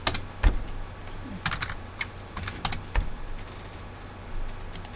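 Keys on a computer keyboard being tapped in short bursts, with a firmer press of the Enter key, close and clear in a quiet room with no talking.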